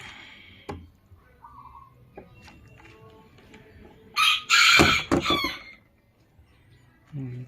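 Serama chickens in a new DIY wooden coop give a loud, drawn-out crow near the middle, with softer clucks and squeaks before and after, while someone speaks quietly.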